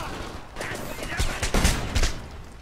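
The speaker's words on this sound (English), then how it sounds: "Taking heavy fire!" Gunfire in the video game Homefront, a few loud close shots landing over a dense battle din for under three seconds, mixed with voices.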